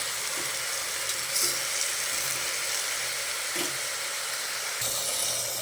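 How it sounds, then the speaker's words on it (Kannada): Half a kilo of mutton fries in a pan with a dense, steady sizzle that stays loud and close for the whole stretch, broken only by a few soft stirring bumps. "ನೋಡಿ ಫ್ರೈ ಆಗ್ತಾಯಿದೆ"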